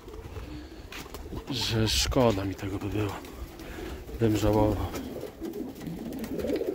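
Pigeons, including homing pigeons kept in a loft, cooing close by in repeated throaty rolling phrases, with someone talking over them and soft rustling in between.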